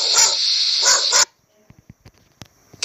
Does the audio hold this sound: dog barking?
yes